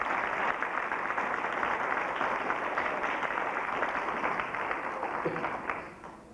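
An audience at an archery demonstration applauds a junior state archery champion, sustained clapping from a crowd that holds steady and then fades out near the end.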